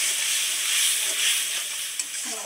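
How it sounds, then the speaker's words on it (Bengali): Mustard spice paste sautés in a pan with a soft, continuous sizzle and light scraping of stirring, close and fairly quiet. "মশলাটা একটু ভালো করে কষিয়ে নেব"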